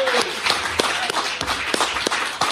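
An audience at an indoor talk claps together, a dense patter of hand claps with scattered sharper slaps, fairly close and without speech.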